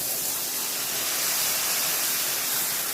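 Water poured into spice paste frying with chili powder in a pan sets off a steady, loud broadband hiss and sizzle that holds without a break, close up.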